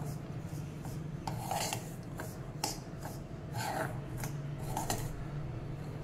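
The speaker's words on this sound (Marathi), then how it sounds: "मंद आचेवर हा रवा आपल्याला भाजून घ्यायचा आहे।" Semolina dry-roasting in a pan over a low flame for a traditional Nag Panchami offering: a continuous soft scraping and rasping as it is stirred, with occasional brighter scrapes rising and falling.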